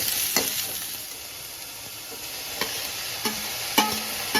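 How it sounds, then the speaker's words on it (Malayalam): Chopped onion frying in a pan until its green fades, a steady hiss of sizzling oil broken by a few sharp spatula knocks and scrapes against the pan, close by. "പച്ചപ്പ് മാറുന്നവരെ ഒന്ന് ഫ്രൈ ചെയ്തെടുക്കാം"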